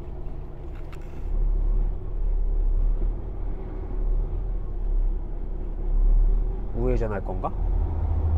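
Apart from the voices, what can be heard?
Ford Mustang engine driving past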